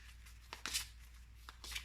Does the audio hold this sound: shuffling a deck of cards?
yes